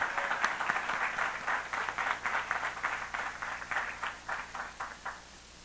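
A church congregation claps in worship, a fairly faint, rhythmic run of distinct claps that keeps a steady beat throughout and fades slightly toward the end.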